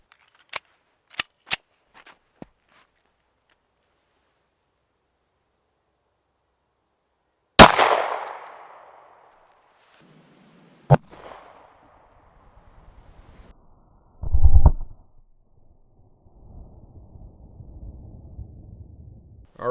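Several sharp pistol shots from a 1911 firing 230 grain Federal Premium HST rounds into a ballistic gel block, loud and isolated, with sparse clicks and handling noise in between.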